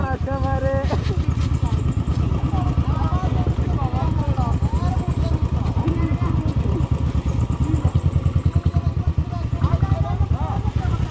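A motorcycle engine labors and revs steadily up close as it climbs an off-road hill, its throaty drone continuous while people talk over it.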